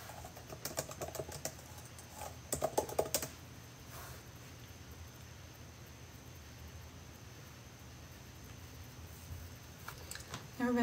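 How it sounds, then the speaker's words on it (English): Fast typing on a computer keyboard, with irregular bursts of sharp key clicks, close and fairly quiet, against a steady low background hum and a brief voice at the end. "It's not aggressive, it's just how I type."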